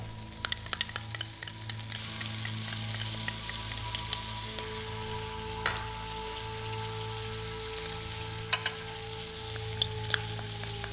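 Ingredients for jjajangmyeon, Korean black bean noodles, sizzle steadily in a pan, a continuous close frying hiss dotted with light clicks and scrapes of stirring.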